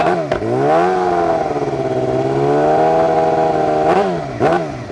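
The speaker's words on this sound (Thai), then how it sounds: "เดี๋ยวมาฟังเสียงท่อคันนี้กัน สตาร์ทติดง่ายครับรอบเดินเบา" A 2018 Yamaha R6 sport motorcycle with an aftermarket exhaust idles close by with a deep, steady burble, broken by quick throttle blips near the start and end.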